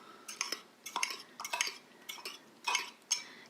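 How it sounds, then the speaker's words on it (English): A fork mixes eggs and a little cheese in a cup, making about a dozen quick, light metallic clinks and scrapes in an uneven rhythm, close and fairly quiet, with no voices. "Then I'm gonna take my fork and mix it really,"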